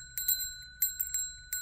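A small sacred bell rung during a reiki healing session gives several bright, clear strikes in quick clusters, each leaving a thin ringing tone over a quiet room.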